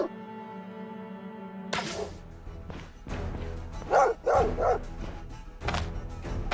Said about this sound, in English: That's a lot of dogs.